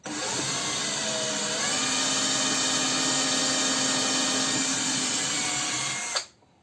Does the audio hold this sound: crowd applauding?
no